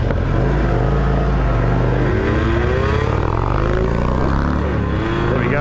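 A small Yamaha YSR 50 motorcycle engine revs continuously while being ridden, its pitch rising and falling as the throttle changes, loud and close throughout.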